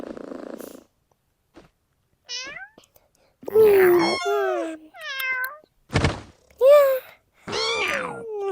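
Cartoonish cat meows and purring from the Toca Life World video game, several short rising and falling calls in quick succession with brief gaps and soft thuds between them.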